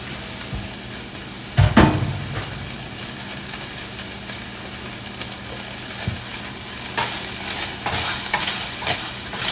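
Garlic frying in a pan while being stirred, a steady soft sizzle with a few sharp utensil scrapes and clacks against the pan, close by with no talking.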